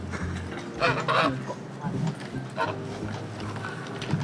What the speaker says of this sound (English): It's a pet geese.